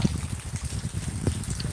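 Rain falls steadily outdoors in a village, making a close, even hiss with soft, irregular patters of drops hitting the ground and nearby surfaces.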